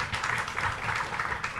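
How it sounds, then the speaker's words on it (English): An audience at a book launch applauds with steady, dense clapping throughout, fairly loud and sustained with no gaps. "A big round of applause for Malini Nair, please."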